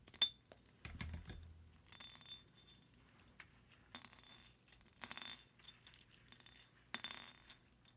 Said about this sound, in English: This is an elastic stretch bracelet, and it has a bunch of wood beads on here.